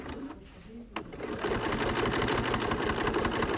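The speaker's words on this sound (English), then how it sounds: "I'm basically sewing one-handed here, but if you had two hands, it makes it easier." A Bernina sewing machine with a binding attachment stitches bias binding: after a brief quiet start and a click, a fast, even needle rattle runs steadily and close up for the rest of the stretch.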